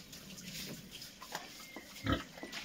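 Pigs on a farm being bathed with water, giving soft grunts and snuffles at close range, with a louder squeal-like burst near the end over a low wet background.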